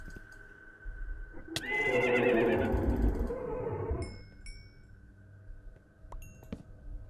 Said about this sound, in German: Hier haben wir die Pferde, die wir gehört haben.